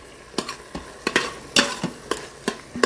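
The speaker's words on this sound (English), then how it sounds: "give a quick stir" A spoon stirs turmeric into paneer bhurji in an Instant Pot, giving about eight quick, evenly spaced scrapes over a soft, steady sizzle, close and fairly quiet.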